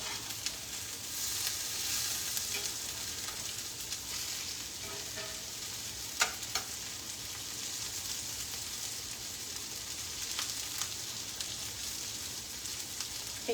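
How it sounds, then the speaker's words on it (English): Six eggs cooking undisturbed over a potato mix in a pan, giving a steady, even frying sizzle that stays soft and constant throughout, broken by a few faint clicks, with nobody speaking. "6 eggs over the top of this potato mix, and we're gonna let them just cook."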